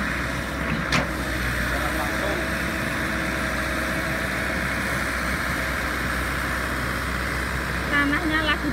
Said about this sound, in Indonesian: Kali ini kita lagi melihat ekskavator yang sedang menggaruk tanah dalam mobil truk.